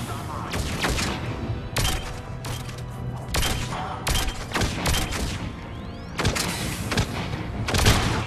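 Repeated bursts of gunfire from a weapon in the Mass Effect 3 video game, sharp volleys coming in clusters over a steady bed of combat noise and low rumble, fairly loud and close throughout.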